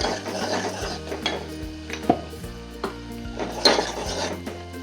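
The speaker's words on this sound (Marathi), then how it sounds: "तेल चांगलं गरम झालं. आता हे आपला घरचा मसाला आहे टाकून घेते तेलात." Homemade masala frying in hot oil for Kolhapuri chicken rassa, a quiet sizzle under repeated clinks and scrapes of a spoon against the pan.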